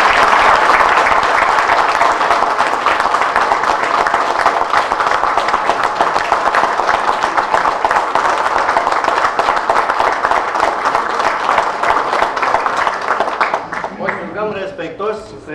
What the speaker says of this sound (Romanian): Aplauze pentru toți patru!